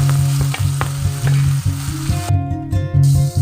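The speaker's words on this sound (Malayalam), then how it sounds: "ഇനി ഇത് നല്ലപോലെ ഒന്ന് വഴറ്റിയെടുക്കാം" Ginger, garlic, onion and green chili sauté in a hot pan with steady, loud sizzling and repeated scraping stirs of a spatula, no voices over it.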